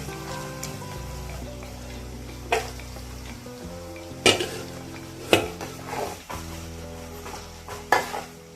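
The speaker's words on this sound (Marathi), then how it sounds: "खोबरेल तेल असल्यामुळे ना हे सगळं फसफसून वर येतं" Jackfruit pieces fry in hot coconut oil over a low flame, a steady bubbling sizzle broken by clinks of a utensil against the pan and a few sharper stirring knocks.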